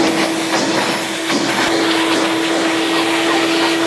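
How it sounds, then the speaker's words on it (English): A shop vac sucks sanding dust off wood before staining, giving a loud, steady broadband roar with a constant whining tone that runs the whole time with no break. "we are going to hit these with the shop vac real quick"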